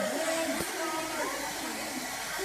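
A hair dryer runs for a fire-in-science demonstration, giving a steady, unbroken broadband whoosh that fills the whole stretch, with faint voices mixed underneath.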